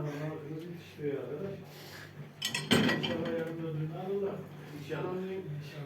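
Dishes and cutlery clink and rattle intermittently as they are loaded into a dishwasher, with one sharper clatter midway, while people talk over the kitchen noise.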